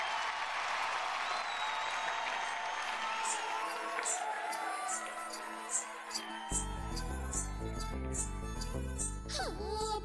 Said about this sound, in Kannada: ಗುಡ್ ಲಕ್, ಚಪ್ಪಾಳೆ ಹೊಡೀರಿ